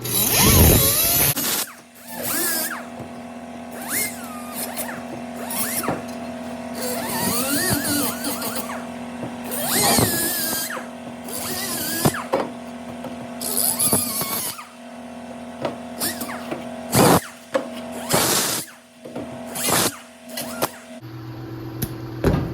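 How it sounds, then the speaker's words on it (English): Deburring tool working the edges of a metal patch panel for rust repair, a busy stretch of close, rasping and whirring bursts broken by short pauses, with no talking. "now I'm going to deburr this"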